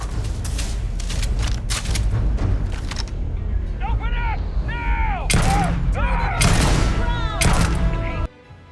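Gunfire rattles through a Starfield video game battle, with rapid close shots and booms early on, then a busier mix of crackling bursts and whooping sci-fi weapon effects that ends abruptly.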